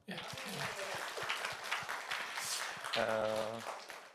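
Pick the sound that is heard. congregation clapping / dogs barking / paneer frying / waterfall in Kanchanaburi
congregation clapping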